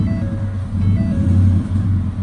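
A 2018 Ford F-150 special edition idles with a steady low engine drone and a faint repetitive tick, the running note rising and falling slightly.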